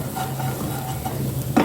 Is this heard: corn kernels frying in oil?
yes